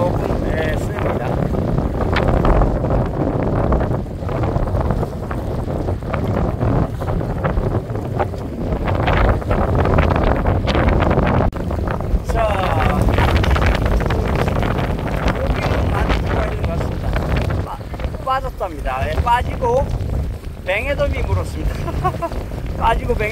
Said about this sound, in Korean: 바람의 강도는 조금 셉니다